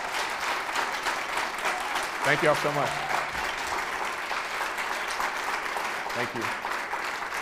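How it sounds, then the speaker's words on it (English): An audience at a book event gives a loud, sustained round of applause for the author, with dense continuous clapping throughout as a speaker briefly talks over it. "Can we get one more round of applause"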